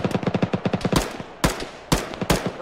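Rapid automatic gunfire in an Arma military game, a fast run of loud close shots followed by three heavier, separate blasts, with no talking.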